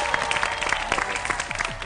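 A television studio audience on an Argentine talk show claps briefly, fairly faint and uneven, with a few voices mixed in.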